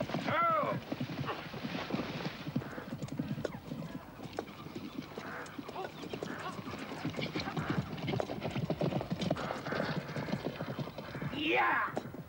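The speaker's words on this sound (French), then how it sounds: "Regardez, un cheval!" A horse gallops in a medieval Celtic adventure setting, hooves clip-clopping in a fast steady rhythm under a busy, layered mix, with a neigh rising near the end and voices shouting around it.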